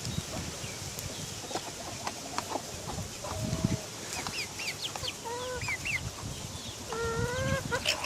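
Chickens on a farm give short, rising peeping and clucking calls, scattered and then in quick repeated bursts toward the end, over a steady noisy outdoor background.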